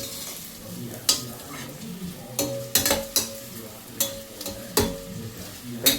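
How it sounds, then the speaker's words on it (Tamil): Onions sauté in ghee and oil for chicken biryani, a soft continuous sizzle broken by several sharp clanks and scrapes of a spoon stirring against the pan, close by and moderately quiet. "இப்போ வெங்காயம் நல்லா வதங்கணும்."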